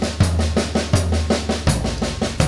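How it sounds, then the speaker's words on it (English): Deep, booming floor tom strikes land in a steady beat, each resonating low and long, played close with a faint pedal thump keeping time. "floor tom"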